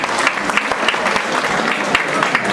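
A crowd at a Hindi comedy poetry show claps continuously, a dense, lively wash of applause that holds steady for a couple of seconds.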